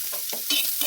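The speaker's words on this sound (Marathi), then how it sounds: "कांद्याला सोनेरी रंग येईपर्यंत आपण पूर्ण मिश्रण तव्यावर परतून घेऊया" Garlic cloves, ginger pieces and onion stir-fried together on a flat pan, giving soft, uneven sizzling with scraping stir strokes, close and steady over a short stretch.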